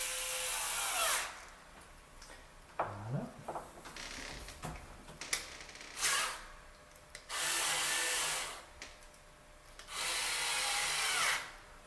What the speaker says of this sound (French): je vais visser tout de suite la vis centrale, ça permettra d'avoir quelque chose de fixe